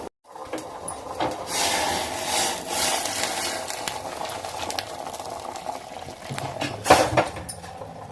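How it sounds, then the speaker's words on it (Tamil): Water boils in a pot for making idiyappam dough, a faint, continuous bubbling and simmering close by, with one brief metallic clink toward the end. "இந்த அளவுக்கு தண்ணியை நல்லா கொதிக்க விடணும்."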